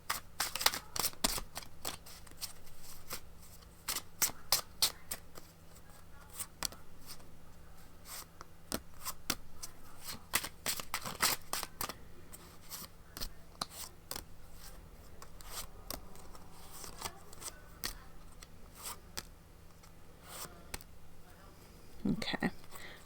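Oracle cards being shuffled and handled by hand, giving dense papery rustles, flicks and sharp snaps that come and go over a steady low hum, with a few louder clacks as the deck is worked.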